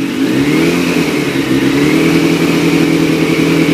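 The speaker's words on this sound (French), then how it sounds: "je démarre la moto" A motorcycle engine runs steadily and loud, held at a constant rev with a smooth, unbroken drone and no talking.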